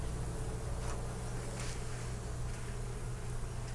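Honeybees in a hive, one swarm-started and one a year old, give off a continuous low steady hum with a faint airy hiss over it, even and unbroken.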